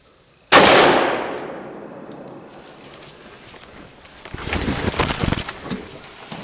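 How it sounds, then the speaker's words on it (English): A single hunting rifle shot cracks out at a deer outdoors, very loud and sudden, with a rolling echo that fades over a few seconds into rustling and background noise. "I'm shooting."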